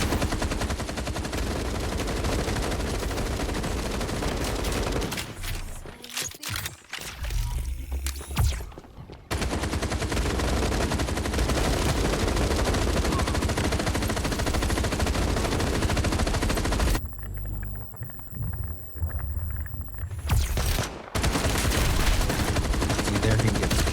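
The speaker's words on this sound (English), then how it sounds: "there's a lot of shooting going on" Dense, loud automatic gunfire from the video game Frag Punk, with long sustained bursts, brief pauses, and thuds in between.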